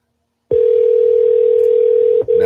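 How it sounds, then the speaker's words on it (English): A telephone dial tone sounds while calling back, a loud, steady, continuous hum starting abruptly after a brief silence and dipping once near the end. "Let's go ahead and give her a call back."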